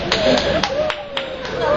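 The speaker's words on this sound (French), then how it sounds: "Applaudissez Madame Ebezi" At an Alliance Française end-of-year party, a handful of evenly spaced claps sound under ongoing talk, sparse and moderately loud, as if from only a few hands.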